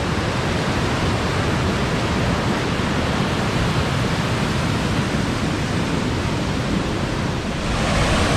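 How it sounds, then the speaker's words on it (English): Ringtail Falls near Waratah, Tasmania, carrying heavy flow: a loud, close, unbroken roar of rushing water that holds steady throughout. "There's a lot of water flowing."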